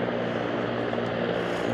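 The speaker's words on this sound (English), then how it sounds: "there's actually a helicopter" A helicopter flies in toward the Vancouver heliport near Canada Place, its rotor and engine droning steadily at moderate distance with a soft rhythmic beat, heard alone over open city air.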